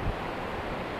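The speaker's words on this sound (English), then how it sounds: "the noise you can hear in the background is a waterfall" A distant waterfall on the far side of a valley gives off a steady, broadband roar, a continuous wash of noise with no break and no voices.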